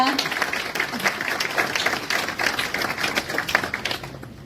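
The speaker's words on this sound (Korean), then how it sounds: "큰 박수 부탁드리겠습니다" Guests at the inauguration of the Incheon tennis association president applaud as a flower garland is presented, a brisk, fairly close patter of many hands with voices talking over it.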